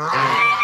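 A farm goose gives one loud, close honk, a sustained nasal call lasting under a second and heard alone.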